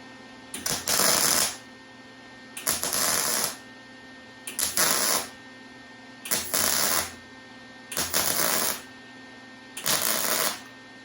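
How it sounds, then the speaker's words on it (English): Welding a VZ-61 Skorpion receiver slot without shielding gas, six loud crackling buzzing bursts of about a second each, evenly spaced with quiet pauses between. "So I did not have my gas on when I started welding."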